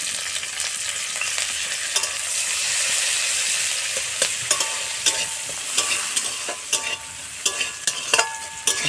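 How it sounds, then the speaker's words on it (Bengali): Chilli and onion frying in hot oil for a lau shaak (bottle gourd leaf) bhaji, a bright close sizzle with a swell partway through as the onions go in, then sharp scraping taps from stirring, no voices. "লঙ্কাটা কিছু ভাজার পরে এখন আমরা দিয়ে দিচ্ছি পেঁয়াজ"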